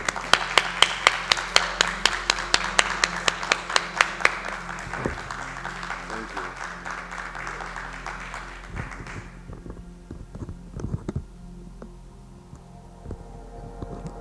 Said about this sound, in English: Can we give Cheryl a round of applause?